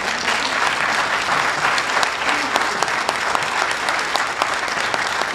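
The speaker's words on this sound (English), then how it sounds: "let's give these candidates a round of applause" An audience at a county Republican candidate forum gives the candidates a sustained round of applause, many hands clapping in a dense, even wash with a few sharper individual claps standing out.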